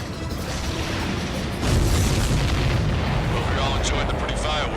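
A loud, sustained rumbling explosion in Ace Combat 7: Skies Unknown, with a deep low roar that swells partway through and rolls on continuously, dense and close.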